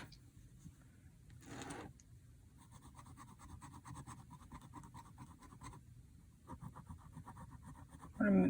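Fountain pen nib with noticeable feedback, loaded with Mysterious Blue ink, scratching across paper close up in continuous strokes with a few brief pauses. The writing is quiet and steady, and no one talks.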